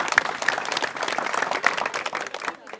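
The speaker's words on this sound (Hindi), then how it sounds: "सब तो पहले इनदे वास्ते तालियां मारी जाण" Crowd clapping at an Aam Aadmi Party election rally in Nagrota Khanpur, applauding the mothers and sisters in attendance; steady, dense applause fairly close, with some voices mixed in, fading near the end.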